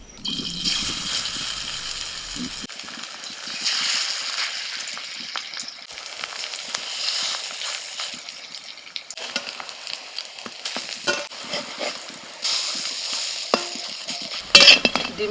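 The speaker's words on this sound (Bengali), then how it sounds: "মাখা হয়ে গেছে একে একে বড়াগুলো ছেড়ে দিচ্ছি" Leafy greens fritters, mixed with chopped green chilli and onion, fry in hot oil as they are dropped in one by one, a loud continuous close sizzle with bubbling swells and occasional utensil clinks, no talking.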